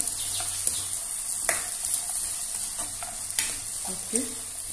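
Chicken, potato and carrot are stirred in a frying pan, a soft continuous sizzle under repeated light scrapes and taps of a spoon against the pan.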